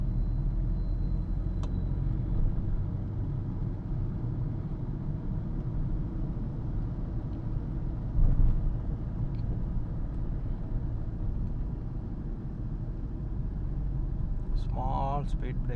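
Steady interior rumble of a car driving through Chennai traffic as it shifts down from fourth to third gear, with a low engine drone throughout, a brief bump in the middle and someone speaking over it.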